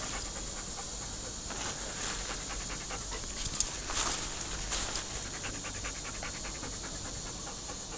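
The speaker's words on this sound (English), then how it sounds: "they get blood to flow through their tongue, and then they breathe air in and out over their tongue" A dog pants steadily and rapidly to cool off, rhythmic breathy huffs close by, continuing evenly throughout with no speech over it.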